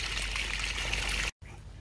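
Water from a newly installed VDF well pump on a homestead flows and trickles steadily at close range, cutting out abruptly for a moment before the flow resumes.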